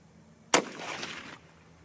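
A single sharp 30-06 Springfield rifle shot firing 150-grain Hornady SST or Nosler BT ammunition at a range, a loud crack followed by a short rumbling tail that fades within a second.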